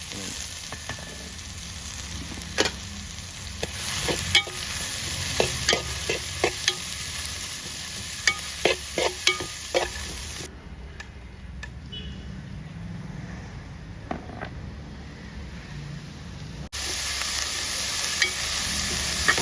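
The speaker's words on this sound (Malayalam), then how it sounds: "നമുക്ക് സവള ഇട്ട് കൊടുക്കാം ഒരു പത്ത് മിനിറ്റ് ഒന്ന് വഴലാൻ വേണ്ടി നമുക്കൊന്ന് ഇളക്കി കൊടുക്കാം" Sliced onions sautéing in a pan for a Kerala-style chicken roast, a steady oil sizzle broken by repeated scraping and clinking of a spoon stirring against the pan, close and clear with no talk.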